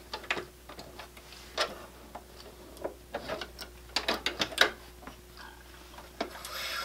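Sewing machine stitching a seam on a small fabric wristlet keychain just below a D-ring, quick irregular mechanical ticks and clicks close by, with no talking.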